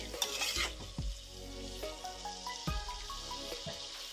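Chicken liver frying in masala in a covered pan, a steady close sizzle with occasional stirring knocks and clinks, no talking.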